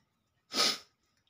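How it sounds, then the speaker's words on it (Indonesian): A single close, forceful sneeze from a person at home, a short burst with quiet before and after. "saya bersin-bersin teman ya."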